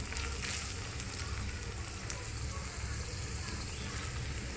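Cashews and raisins sizzling in hot ghee for payasam, a continuous soft, hissing fry with faint crackles, steady and fairly quiet throughout.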